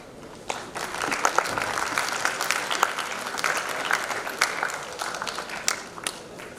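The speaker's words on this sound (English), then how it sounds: "please give a big round of applause to Mr. Daniel Azizan" An audience at a university event applauds a guest speaker with sustained, dense clapping that builds quickly and holds steady for several seconds, with a few louder claps standing out.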